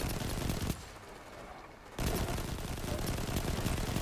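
Turret fire in the video game Destiny 2 rattles in a loud, dense stream, cuts out for about a second, then resumes just as heavy.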